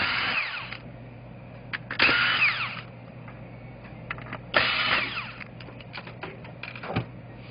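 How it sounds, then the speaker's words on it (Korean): A power drill or electric screwdriver backing four screws out of a board while a CPCV5 150WF unit is taken apart, heard as short whirring bursts with clicks and handling noises between them, close up and without speech. "보드에 고정되어 있는 나사 4개를 제거 후"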